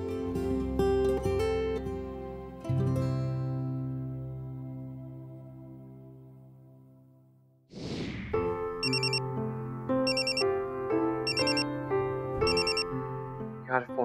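A mobile phone plays a melodic ringtone that goes unanswered. The tune rings loud and clear, fades away, then starts over with bright chiming notes, and no one speaks.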